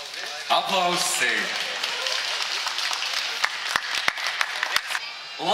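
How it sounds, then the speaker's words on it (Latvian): A crowd applauds at a diploma award for the most innovative stand during the 2016 entrepreneurs' day in Jelgava. A voice is heard briefly at the start, then dense, steady clapping fills the room with a few sharper individual claps. "Aplausi!"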